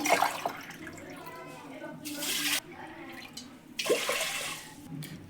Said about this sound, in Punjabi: ਦੋ ਗਲਾਸ ਪਾਣੀ ਦੇ ਆਪਾਂ ਇਹਦੇ ਵਿੱਚ ਪਾ ਦਿੱਤੇ ਆ